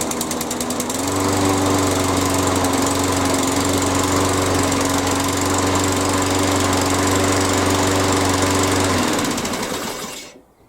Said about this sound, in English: choke on, lever back, start the lawnmower